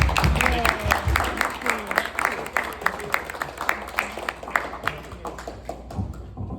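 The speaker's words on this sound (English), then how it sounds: "let's just give an applause to Montrose Search and Rescue" A Sierra Club group program audience applauds Montrose Search and Rescue, many hands clapping briskly and close, the sound thinning gradually toward the end with faint voices underneath.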